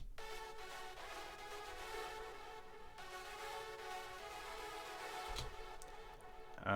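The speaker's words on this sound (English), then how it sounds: "So the delay sounds like this." Echo Boy delay on a hardstyle synth lead, heard as the wet signal only: a faint, washed-out smear of repeating synth echoes that blur together continuously without clear attacks, with no voices.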